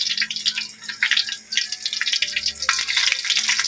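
Eggs frying in a pan of hot oil for a home meal, a loud close crackling sizzle with bursts of spitting pops and some scraping of a utensil, running continuously without talk.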